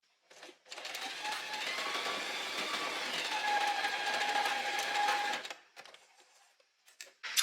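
A sewing machine stitches a seam in a polyester band for a little black dress, running steadily for about five seconds close by after a brief start, then stopping, with a few small handling noises after.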